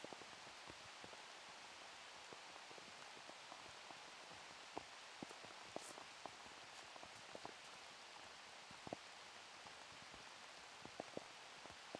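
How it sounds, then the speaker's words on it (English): Rain falling during an outdoor disc golf round, a faint steady hiss with scattered soft drop ticks and taps, no voices. "It's raining."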